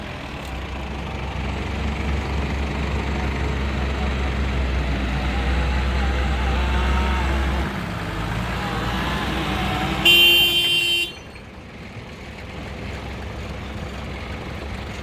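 A 4WD's engine drones steadily as the stuck vehicle is pulled out on Maxtrax recovery tracks in Litchfield National Park, with a brief horn-like toot near the end before the rumble drops lower.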